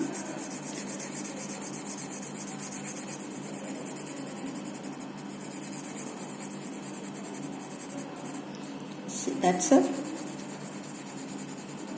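A 2B pencil drawing and shading on paper gives a soft, continuous scratchy rasp, close and faint, with a brief louder stroke near the end and a few spoken words.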